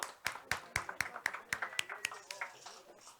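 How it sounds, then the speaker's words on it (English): Audience applause after a National Steel Symphony Orchestra concert, sparse and fairly quiet, made up of distinct individual claps in an uneven rhythm. "rousing round of applause to that wonderful performance from the National Steel Symphony Orchestra."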